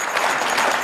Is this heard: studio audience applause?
yes